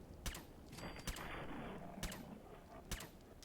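Four sharp, isolated gunshots ring out in Fallout 4, spaced about a second apart over a quiet, hushed background.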